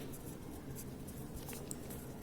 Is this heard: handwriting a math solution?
yes